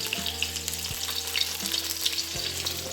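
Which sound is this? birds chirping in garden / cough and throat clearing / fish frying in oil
fish frying in oil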